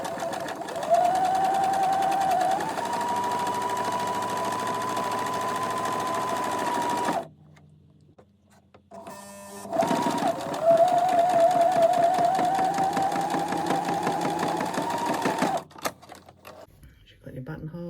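A sewing machine fitted with a buttonholer stitches a buttonhole on a skirt, running steadily for several seconds, pausing briefly, then whirring again in a second long run before stopping.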